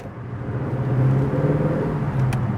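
A 2024 Aston Martin DB12 accelerates hard in first gear under a bridge, its engine building from a loud, close rumble into a steady, sustained roar.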